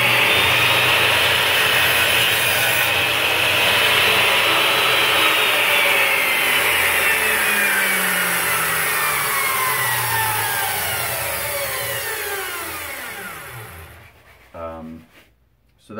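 A compound miter saw spins up with a loud whine, cuts through wood, then winds down over several seconds, ending with brief clunks.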